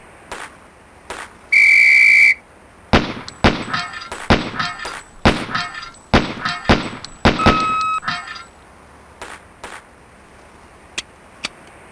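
A sharp, shrill start whistle blows once, briefly and loudly, in the MS-DOS game Police Quest: SWAT during a pepper popper shooting drill, followed by a rapid string of gunshots and metallic clangs of falling steel targets.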